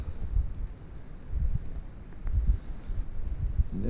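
Gusty wind at a fishing pond buffeting the microphone in low rumbling bursts, rising and falling irregularly outdoors with no voices.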